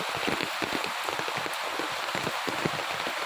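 Heavy rain pouring down outdoors near a flower garden, a steady dense hiss with scattered drops spattering on nearby surfaces, even and close, with no voices.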